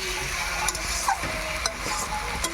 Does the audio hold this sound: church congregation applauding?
no